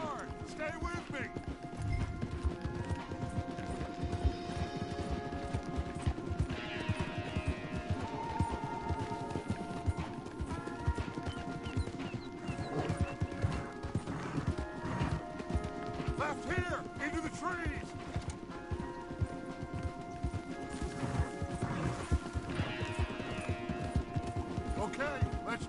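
Horses galloping hard through rough terrain in Red Dead Redemption 2, a steady drumming of hooves under a musical score, with characters shouting over the ride.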